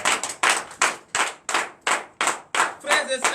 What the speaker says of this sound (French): Donne l'acclamation au Seigneur Jésus-Christ